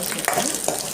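Almonds and cashews fry in a pan, giving a steady, close sizzle with faint scraping and stirring noises over about a second.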